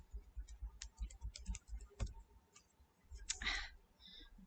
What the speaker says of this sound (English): I typed an extra, typed a plus at the end